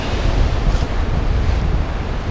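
Ocean surf at Orang Bukal beach in Lombok roars in a steady, loud, continuous wash, heavily buffeted by wind rumbling against the microphone, with no voices.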